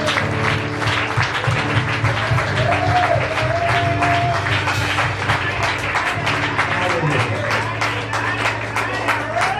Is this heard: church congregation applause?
yes